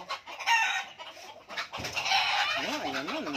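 Chickens, including a rooster, cluck and squawk in a noisy flurry as they chase each other, near and busy, with a voice speaking over the commotion partway through.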